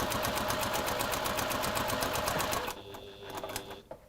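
A sewing machine stitches a gentle curved seam in a rapid, even rhythm for nearly three seconds, then stops and leaves a quieter, fainter mechanical sound.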